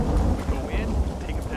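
Heavy rain and a deep rolling rumble of thunder fill a city street in the video game Red Dead Redemption, loud and close in a short, dense wash of noise.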